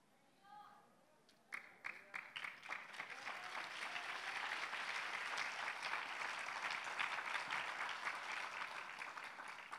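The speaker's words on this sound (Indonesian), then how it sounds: "Yang tepuk tangannya agak seret," A church congregation at a Sunday service breaks into applause after a quiet moment with a brief voice, the clapping building quickly from scattered claps to a full, steady round.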